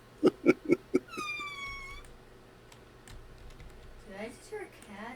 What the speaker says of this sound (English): I just hear a cat?